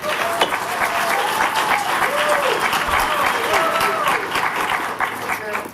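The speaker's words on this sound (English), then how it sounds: "let's hold the applauses to the very end, or the boos to the very end" Sustained applause from an audience at a city planning commission meeting, steady dense clapping filling the room with murmured voices mixed in.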